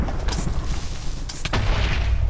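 A Minecraft creeper blows up with a deep booming blast during a lucky-block gun session, followed by a second sharp crack and rumbling debris noise, loud and close.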